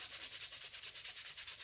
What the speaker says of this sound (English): just using hand sanding